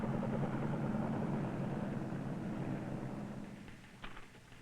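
A helicopter supplying an isolated outpost in Laos, a steady low rotor and engine drone at a distance, fading toward the end.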